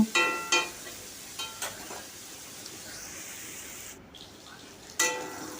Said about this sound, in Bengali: আলুগুলোকে আমি এক মিনিট ভেজে নেব